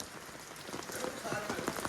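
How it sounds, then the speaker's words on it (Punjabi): The first rain of the season patters steadily onto surfaces at a cave shrine, a close, dense drizzle that grows slightly louder, with faint voices in the background. "ਪਹਿਲਾ ਮੀਂਹ ਪਿਆ ਹੈ"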